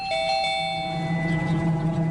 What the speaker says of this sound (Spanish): se acuerda cuando ya ha tocado el timbre